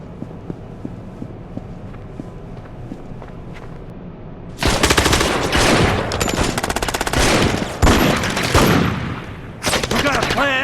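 Gangstar Vegas video game gunfire: quiet background, then sudden loud, rapid automatic bursts that continue almost nonstop for the last six seconds, with brief gaps.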